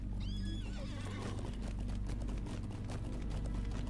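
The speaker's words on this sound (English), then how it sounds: "Let's get on our horse" A horse neighs in the Lord of the Rings Online game, a rising whinny near the start over a steady bed of in-game ambience and hoofbeat-like clip-clop, loud and close with no talk.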